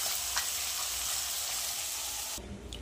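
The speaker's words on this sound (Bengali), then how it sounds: "এই দেখো একে একে মাছগুলো সব ভাজা হচ্ছে।" Fish pieces fry in hot oil with a soft, even sizzle that runs throughout and cuts off abruptly just before the end.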